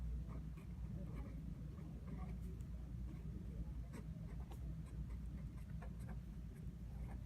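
Pen or pencil writing equations by hand on paper, a faint continuous scratching with small strokes over a low steady background hum, no talking.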